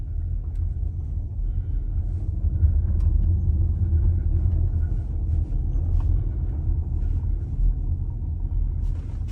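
An Audi Q4 e-tron electric SUV rolls slowly down a small hill in roll mode, giving a steady low rumble of tyres on the road surface with no engine note, constant and close throughout.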